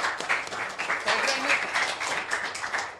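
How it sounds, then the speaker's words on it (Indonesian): Audience applause for a teacher of puppetry and gamelan music at a vocational school in Surakarta: a steady, fairly loud patter of many hands clapping for about three seconds, with a voice faintly audible underneath. "Tepuk tangan teman-teman untuk Pak Rasino."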